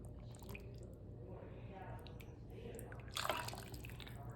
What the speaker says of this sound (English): Ladling off the excess juice.